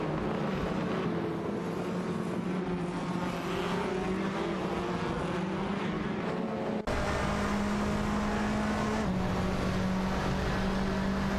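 Race cars in an AI-driven racing video game, including a Ford Focus RS and a Honda Civic, with a steady droning engine tone that shifts pitch partway through, continuous and fairly loud without talk.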